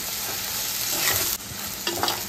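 Chicken and tomato frying in a clay mud pot, a dense continuous sizzle with a brief stirring scrape near the end, close and alone.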